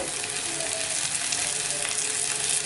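Cubed potatoes frying in masala for aloo mogray sabzi, giving a close, loud, even sizzle that crackles steadily throughout with no speech.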